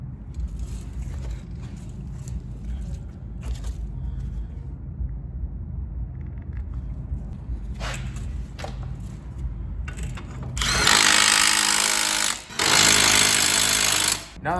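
A power tool drives the bolts of a Silverado brake caliper bracket. Two loud, sustained buzzing bursts with a short gap between them come near the end, after a stretch of low rumbling background with a few faint knocks.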